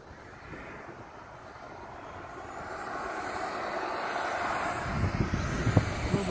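Steady buzzing drone of a radio-controlled model airplane engine taxiing on a grass flying field, gradually rising and growing a little louder and rougher toward the end, with no voices.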